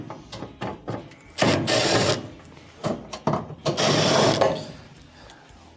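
Phillips screws being backed out of an oven's terminal cover, heard as bursts of close ratcheting and whirring from a driver, interrupted by short pauses and small metallic clicks.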